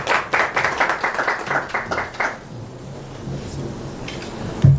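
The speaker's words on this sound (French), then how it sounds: "on applaudit s'il vous plaît" An audience applauding to welcome an ambassador, a short burst of rhythmic, somewhat unison clapping for about two seconds that then fades into low room noise, ending with a brief thump.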